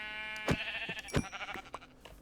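Minecraft sheep bleating, two clear baa calls about half a second apart followed by softer trailing bleats, close and fairly quiet with no speech.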